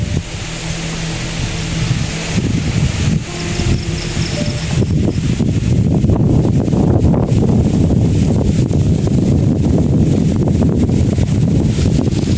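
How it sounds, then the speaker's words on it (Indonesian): Strong wind roars steadily, building to a dense continuous rush that may be blowing through a banyan tree outdoors, loud and unbroken throughout with no speech. "kencang anginnya ini"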